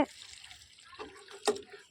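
Water splashes and trickles briefly in a couple of short pours onto potted plants in a rooftop garden, close by and fairly soft.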